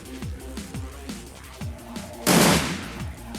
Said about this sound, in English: Burst fire. 2 attacks, 1 action.